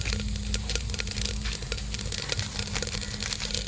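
Mustard, cumin, fenugreek and dried red chillies crackle and sizzle in hot groundnut oil for rasam tempering, a dense, steady fry with scattered sharp pops running throughout, fairly close and with no talking.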